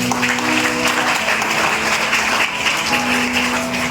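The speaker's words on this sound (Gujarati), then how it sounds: "બધા વિદ્યાર્થીઓ પોતાના માટે તાળી પાડો." Students applauding themselves at a Guru Purnima school gathering, a loud, dense crowd of clapping that holds steady for several seconds, with a faint hum running underneath.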